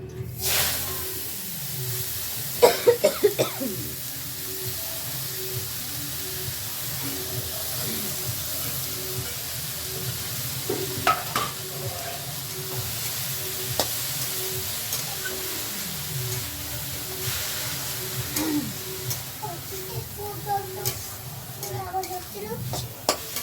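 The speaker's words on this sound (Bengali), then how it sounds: "শাকগুলো এখন তেলে দিয়ে দেবো বন্ধুরা।" Leafy greens frying in oil in an iron kadai, a steady hiss with occasional stirring clatter, moderately close and partly under a voice talking.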